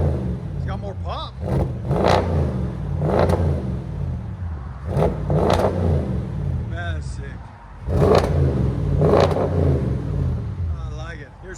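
A 2017 Audi S7 widebody with a 4.0L twin-turbo V8, muffler delete and sport mode engaged, revs in a series of loud, sharp bursts up close, with someone talking between the revs.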